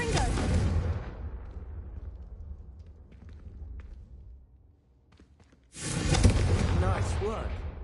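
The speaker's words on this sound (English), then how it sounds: "a Confringo cast travels farther than that of a spell like Incendio" A fiery Confringo spell cast in a video game erupts in a loud, broadband burst near the start, fades through a quieter stretch, then a second forceful blast roars in near the end.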